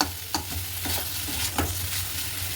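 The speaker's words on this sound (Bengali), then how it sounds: "পেঁয়াজগুলো সব দিয়ে দিলাম দিয়ে শুধু ভাজা ভাজা করবো" Onions fry in a wok with a continuous close sizzle, broken by a few sharp scraping knocks as a spatula stirs them around the pan.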